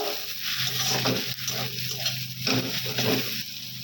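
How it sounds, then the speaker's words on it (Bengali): Chilli, turmeric and coriander powders are stirred into green cauliflower frying in a pan, making a dense continuous sizzle with soft scraping stirs close up. "হলুদ গুঁড়ো, ধনে গুঁড়ো, ভালো করে নাড়াচাড়া করে দিব।"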